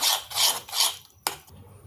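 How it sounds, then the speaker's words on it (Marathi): Cornstarch is stirred into a chocolate ganache mixture in three brisk scraping strokes, followed by a sharp click and a quiet pause, heard close up. "पुन्हा छान मिक्स करून घ्यायचंय सगळं मिश्रण"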